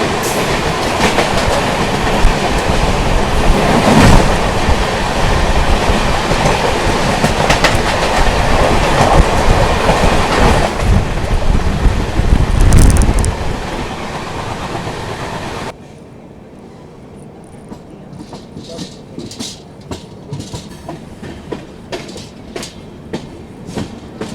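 A Raipur-Gondia Jan Shatabdi Express train passes close by with a loud, sustained rumble and rapid rail clatter that cuts off sharply, leaving quieter ambient noise with scattered clicks.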